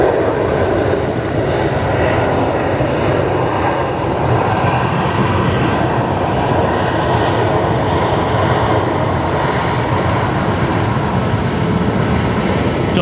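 A jet aircraft at Brisbane Airport, on or near the runway, produces a loud, sustained, broadband engine roar that holds steady throughout, close and without voices.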